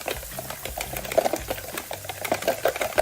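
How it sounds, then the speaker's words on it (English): Eggs are whisked briskly in a bowl with a fast, regular clicking and tapping rhythm, close up and continuous for a few seconds, no voices. "Get these really well whisked. Lots of air in there, like that."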